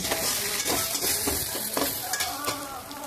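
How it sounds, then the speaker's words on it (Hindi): Chunks of taro (arbi) being stirred and fried in a pan for a sour Chhattisgarhi-style curry, a steady close sizzle with scraping spoon strokes throughout. "सबको अच्छे से मिक्स कर देंगे और थोड़ी देर और भूनेंगे"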